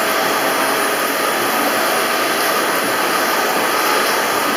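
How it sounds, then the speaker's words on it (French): A powerful vacuum cleaner sucks baking soda off a mattress, its steady loud roar and hiss filling the whole stretch without pause or voices. "Là, avec un bon aspirateur assez puissant, vous aspirez tout."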